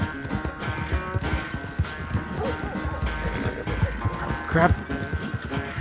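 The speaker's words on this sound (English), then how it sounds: "What if I shoot at the horse?" Horse hooves thudding in a rapid galloping rhythm while riding in Red Dead Redemption 2, steady and close under occasional speech and game noise.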